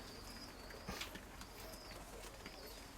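Pigeons feeding outdoors give soft coos and a faint flutter over a low ambient hum, close but quiet.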